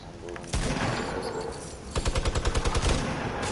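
Rapid automatic gunfire from an online duos shooter game rattles in a dense close burst, followed by a quick rhythmic string of shots.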